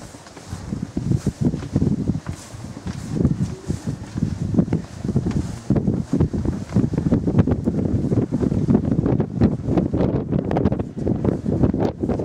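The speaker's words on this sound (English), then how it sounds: "Windy up here, isn't it" Strong wind buffets the microphone in continuous rumbling gusts, with occasional rustling and thumps.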